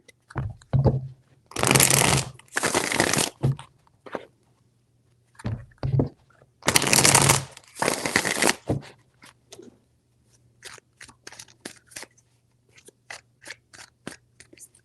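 A tarot deck shuffled close up in repeated riffling bursts, followed by a run of softer, sparse card taps and flicks, with no voices.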